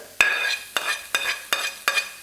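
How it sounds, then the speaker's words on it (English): Red pepper and garlic stir-fried in a very hot wok: five sharp scraping tosses, roughly every 0.4 seconds, each one followed by a bright sizzle. The sound is close and loud, with no talking. "Got really good heat going here in the wok now"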